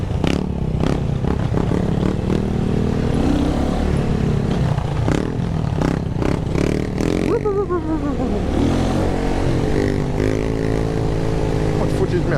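A motorcycle on a morning ride to work accelerates hard and loud close by, its engine rising through revs with clattering road noise and a sharp pitch sweep midway, while voices talk over it.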